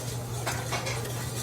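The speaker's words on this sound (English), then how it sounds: "So just stir that in." A spoon stirs a flour roux in a pan on the stove, giving a steady close scraping and swishing over a low hum with no pauses, thickening a parsley sauce for corned beef and cabbage.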